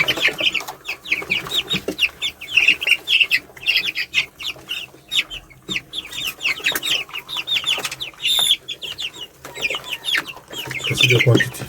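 Dense high-pitched peeping and cheeping from a group of one-week-old poultry chicks, continuous overlapping calls throughout, fairly loud and close, with light rustling between bursts.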